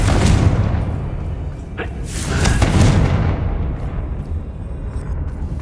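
Bombarda blasting spells from Hogwarts Legacy: a few deep, rumbling booms in succession, with a sharp crack and a second heavy burst near the middle, then the rumble fades into a quieter tail.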